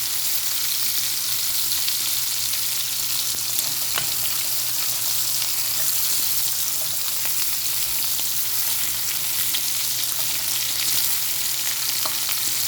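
Shrimp cook in a little oil in a pot, giving a steady, dense sizzle and crackle that holds evenly for the whole stretch with no one talking.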